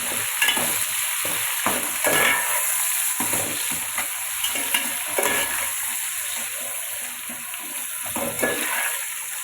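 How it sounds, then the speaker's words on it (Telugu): Tomatoes fry in hot oil for a chicken pulao, a steady sizzle broken by repeated scrapes and clinks of a spoon stirring the pan, close and continuous with no talking. "బాగా ఇవి కూడా ఫ్రై అవ్వనండి."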